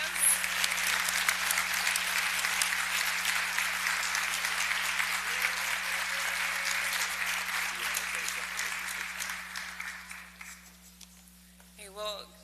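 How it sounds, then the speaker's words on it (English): Sustained applause from a ceremony audience for graduate students at a white coat ceremony, dense steady clapping that carries on for most of the stretch before fading out near the end. "if everyone could just give all of our students a"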